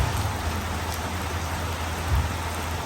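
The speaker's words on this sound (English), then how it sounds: "The rain has just started" Rain starting to fall on Koh Samui in Thailand, a dense steady hiss of drops with low rumbling underneath, close and continuous.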